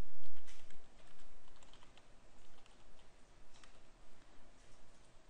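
Typing on a computer keyboard to enter a disease name into nutrition software, a steady patter of close key taps running throughout with no voices.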